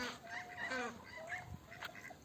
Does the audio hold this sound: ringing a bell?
no